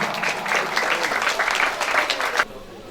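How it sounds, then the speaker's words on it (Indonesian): Steady applause from a crowd at a traditional Nias wedding celebration, dense and even for over two seconds, then cutting off abruptly near the end. "Berikan tepuk tangan."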